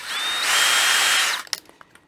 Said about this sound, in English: we can pre-drill a new hole. Now I'm going to go through the existing hole that was already there.